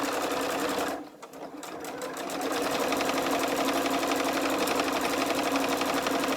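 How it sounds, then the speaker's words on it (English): A sewing machine runs steadily, stitching along the top edge of fabric for an accessory roll, with a brief pause near the start before the motor and needle resume a fast, even, close whirring rhythm. "we're simply sewing along that top edge"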